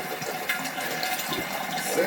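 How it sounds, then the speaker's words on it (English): Sparge water pours and splashes steadily from a Grainfather beer-brewing system, a continuous rushing drain with a faint voice in the background. "so now we just need to get the sparge water and drain it"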